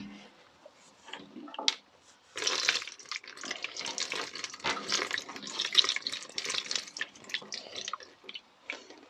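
Ten-year-old fuel mixed with water pours and splashes from a Yamaha Thundercat tank into a bucket in uneven gushes and trickles, close and fairly loud after a brief pause.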